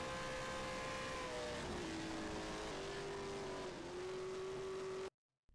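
A 1965 Formula 1 car in a sim racing game approaches with a sustained high engine whine that dips and steadies as it nears, loud and alone, then cuts off abruptly at the end.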